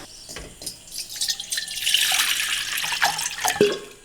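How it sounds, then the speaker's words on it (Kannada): Water runs from a tap and splashes into a cooking pot, rising in pitch as it fills, with a few clanks; no talking. "ಈಗ ಒಂದು ಪಾತ್ರೆಗೆ ನೀರನ್ನ ಹಾಕೊಳ್ಳೋಣ."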